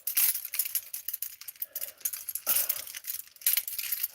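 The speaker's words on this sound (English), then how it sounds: "Good thing I have all those keys nearby, right?" A bunch of metal keys jangles and clinks repeatedly at close range in a handcuff escape setting, busy bright rattling that rises and falls in short bursts, no talk.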